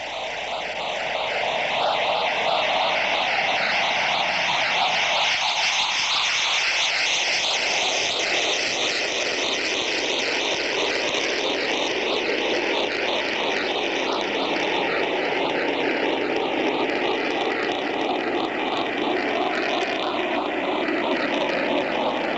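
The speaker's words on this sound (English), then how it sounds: "From the left, the Blue Angel Diamond is rolling." Blue Angels jets at the 1986 Cleveland National Air Show make a loud, sustained roar that fills the whole stretch, with a slow swelling and shifting tone as the formation rolls overhead.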